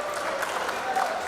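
An audience applauds to welcome a poet onto the stage at a Hindi poetry recital, a steady wash of clapping lasting briefly at moderate loudness.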